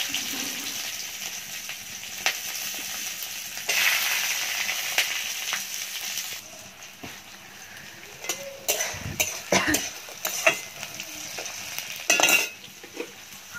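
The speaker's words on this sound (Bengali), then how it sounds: "এবারে পেঁয়াজ রসুন আর লঙ্কা কুচিটা দিয়ে দেবো।" Chopped onion, garlic and chilli fry in oil in a pan over a clay oven, a steady hiss with a louder burst of sizzle as they go in, followed by scattered clinks and scraping of stirring.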